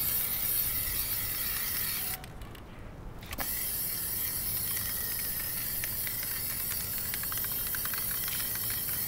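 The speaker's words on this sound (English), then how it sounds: "I'm going to spray a little bit more on this" A Plasti Dip aerosol can sprays a coating onto the back of a wheel: a long, steady, close hiss that stops briefly, then resumes with faint rattles under the spray.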